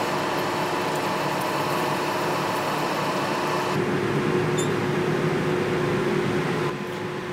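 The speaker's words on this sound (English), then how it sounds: "I sped her up to 355 RPM, and we're just gonna take the first pass here and then stop it and measure." A vertical shaper running at 355 RPM makes its first cutting pass on a shop-made tool holder, giving a steady, continuous mechanical hum and whir with faint high ticks, alone and without voices throughout.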